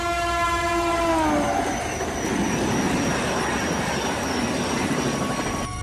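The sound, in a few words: old train arriving and stopping at a deserted station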